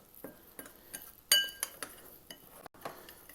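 A spoon stirring chicken seasoning mix in a bowl, giving light clinks and scrapes in an irregular rhythm with one sharper ring, close and fairly quiet.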